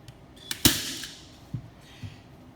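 A staple gun fires staples through canvas into a stretcher frame: one sharp, loud snap, then a couple of fainter thuds spaced about half a second apart, close up with no talking.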